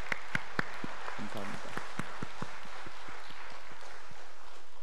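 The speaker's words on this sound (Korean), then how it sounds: "우리 박수로 같이 한번 환영할 수" A church congregation claps to welcome elders at a Sunday service, steady close applause with a few sharp individual claps standing out, while a voice briefly speaks over it.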